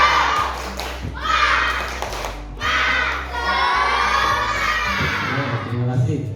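Primary school class in Indonesia doing a group spirit clap chant on the teacher's cue, children shouting and clapping together in loud bursts with crowd-like cheering throughout.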